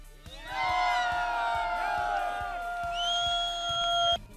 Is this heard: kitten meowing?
no